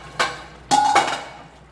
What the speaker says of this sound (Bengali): 10 মিনিট পর আমরা ঢাকনাটা খুলছি।